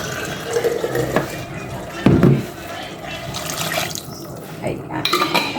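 Water is poured into a cooking pot of tomato sauce, splashing and trickling close by alongside clinks of cookware, with a voice talking quietly at times.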